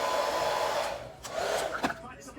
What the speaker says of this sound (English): Take the dryer on medium heat and just blow it until you feel like it's safe to go ahead and press it down.